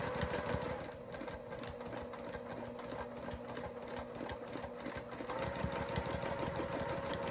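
A sewing machine quilting an elongated oval pebble pattern, a fast steady mechanical stitching hum with rapid ticking, close and continuous, shifting slightly in pitch partway through.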